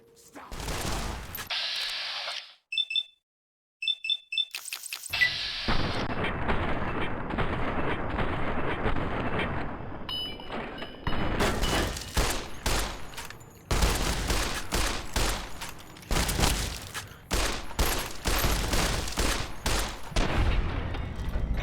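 Gunfire in the game Fallout: New Vegas, with loud bursts of rapid shots and sustained volleys cutting in and out, separated by brief pauses and a few mechanical clicks.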